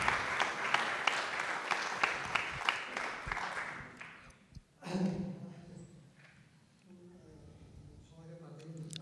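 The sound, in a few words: applause at a press conference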